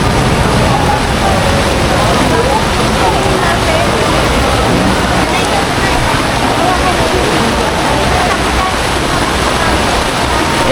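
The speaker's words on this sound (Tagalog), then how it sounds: "Ang lakas ng ulan." Heavy rain pours down during street flooding on Taft Avenue at Pedro Gil in Manila, a loud, steady, dense roar of water that continues unbroken throughout.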